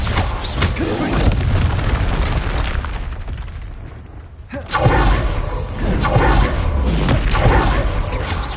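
A Confringo blasting spell explodes in a Harry Potter video game, with loud booming bursts and rumbling, a short lull, then another heavy blast and sustained roar up close.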